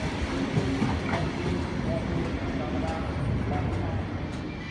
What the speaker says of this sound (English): Now departing platform number 4 is the 10:01 Kiama service.